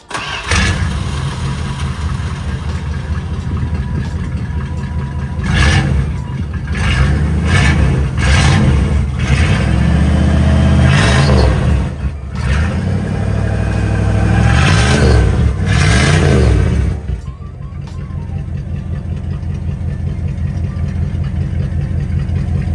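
A 1987 Dodge D150 pickup's 5.2-litre (318) V8 with dual exhaust idles loudly up close, then revs repeatedly in rising and falling bursts before settling back to a steady idle.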